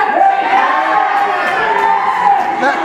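Loud wrestling crowd cheering and shouting in an arena during a three-way tag match, a sustained close roar of many voices with no break.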